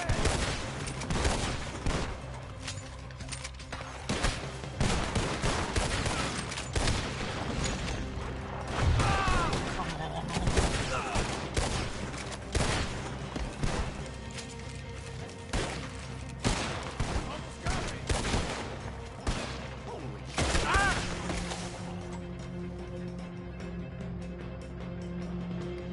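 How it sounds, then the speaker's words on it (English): Gunfire fills a shootout in the video game Red Dead Redemption 2, with dense volleys of loud shots, rapid bursts and booms continuing throughout alongside shouted character voices. "Shoot him again!"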